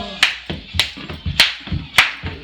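A church congregation clapping in a steady rhythm, sharp loud claps about every half second with softer off-beat claps between them, close and without talk.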